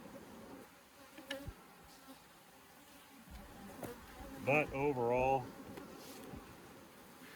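A steady buzzing of bees from a pallet of hives drones in the background while a person speaks briefly nearby.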